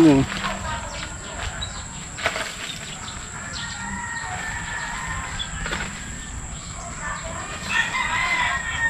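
Chickens cluck and a rooster crows nearby in a backyard over steady outdoor background noise, with some wing flapping and a voice talking at times.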